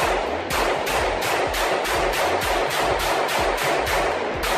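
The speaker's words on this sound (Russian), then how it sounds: "Для имитации выстрела используются светозвуковые патроны 9 мм РАК, 9 мм РА, выдающие громкий," Retay Glock 17 blank pistol firing 9 mm PAK light-sound cartridges in rapid semi-automatic succession, about a dozen loud sharp reports in a steady rhythm, close and dense, with no talking.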